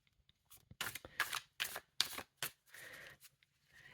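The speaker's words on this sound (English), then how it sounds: "I shuffle them before I get started" Tarot cards being shuffled in several quick riffling bursts, crisp papery flutters separated by short pauses, close and fairly quiet with no talking.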